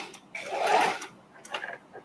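A sewing machine stitching small fabric scraps together, a short quiet whirring run of stitches followed by a couple of faint mechanical clicks, with a voice murmuring softly in the background.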